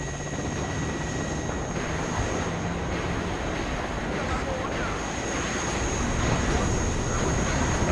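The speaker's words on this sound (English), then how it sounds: "you can see I'm moving up the Mi-17s to engage those" Rotor and engine drone of Mi-17 helicopters in the WARNO wargame, a steady broadband roar with a faint high whine, holding even across the whole stretch and growing slightly louder toward the end, with no clear talk.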